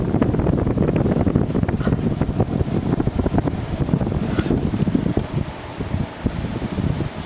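A 1995 Frigidaire Signature 2000 5450 BTU window air conditioner runs close by after its compressor has cut out, giving a steady, loud fan whoosh with airy rustling throughout.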